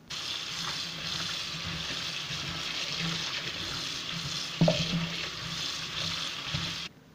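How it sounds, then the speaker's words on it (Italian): Cut fennel pieces are rinsed under a running tap, a steady close hiss of flowing water with a brief louder splash near the end before the flow stops. "lavateli bene sotto l'acqua corrente"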